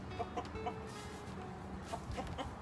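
Guinea fowl clucking softly in short repeated bursts, several birds murmuring close by over a low background hum.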